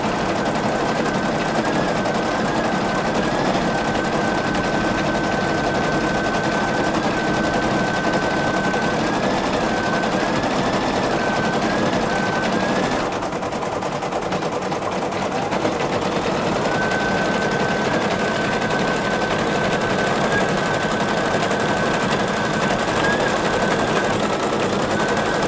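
A Brother PE770 embroidery machine stitches a photo-stitch design with a steady, loud, rapid mechanical rattle throughout, briefly dropping in pitch midway before resuming.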